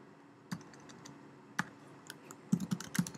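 Typing on a computer keyboard: a few scattered key clicks, then a quicker cluster of louder taps near the end, close and alone in a quiet room.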